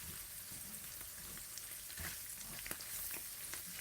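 Chanterelle mushrooms cook gently in a pan at low temperature, giving a faint, steady soft sizzle with a few tiny pops throughout.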